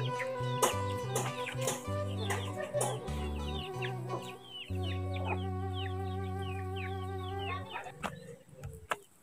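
Chickens cluck and call repeatedly in a cool, quiet rural village, several birds close by with overlapping bursts and a rooster-like note, no one speaking over them.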